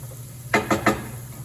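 Food with ghee and herbs is tossed in a pan in three quick scraping strokes up close, over a low background hum.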